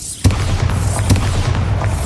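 Bombarda spell blasts in the video game Hogwarts Legacy, a sharp booming impact near the start followed by a second burst about a second later over steady game background rumble.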